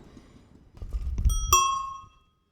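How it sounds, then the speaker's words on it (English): A ding-dong bell on a Pashley bicycle is struck once with a bright ring that lingers and fades, after some low rustling and handling noise. "the ding-dong bell, you've got to sort of hit it correctly, and then it does go ding-dong"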